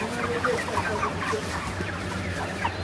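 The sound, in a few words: chickens clucking on poultry farm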